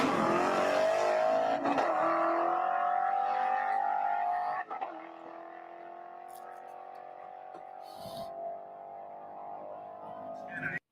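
A brand-new Mustang with the Coyote engine and a manual gearbox hums steadily, its engine tone slowly rising and then settling lower as it cruises, with a few faint clicks and speech heard at times.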